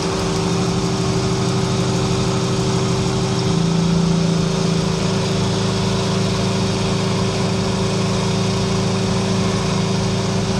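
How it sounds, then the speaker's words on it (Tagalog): A small misfiring engine runs loud and close after a part is pulled out, its steady drone shifting pitch a few seconds in and carrying on with a restless, uneven hum. "Kung napansin nyo, nung binunot natin, medyo naging malikot yung makina."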